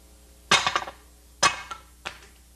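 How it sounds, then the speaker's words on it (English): Hammer blows driving a ball joint out of a car's upper front control arm, three sharp metallic strikes, the first two loud and ringing with short rattling echoes, the last lighter, close up with no talk. "drive the ball joint through with the hammer"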